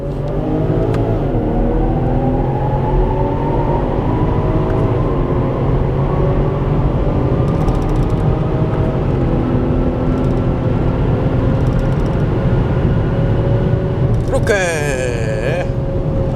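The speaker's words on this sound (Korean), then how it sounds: "변속기는 좌측으로 밀어서 S 모드 상태에서 패들 시프트를 사용해 보도록 하겠습니다" A BMW 640i xDrive M Sport accelerates in Sport drive mode with the gearbox in S mode and paddle shifts. The engine drone is loud and steady inside the cabin, its pitch climbing and dropping with each gear change.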